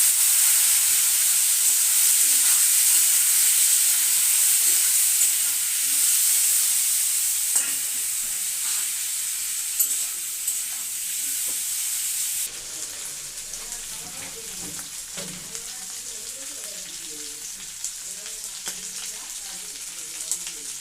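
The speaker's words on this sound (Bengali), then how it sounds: "মাছগুলো লাল লাল করে ভাজা হয়ে গেছে" Dried shutki fish fries in a pan with a dense, loud sizzle that softens partway through. Stirring clatter follows, and faint voices are heard under it.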